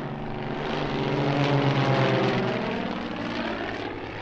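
Zlin 50 propeller aerobatic aircraft flying at an airshow in Leszno: a steady, loud piston engine drone with a buzzing propeller tone that swells slightly and then eases, with no talking.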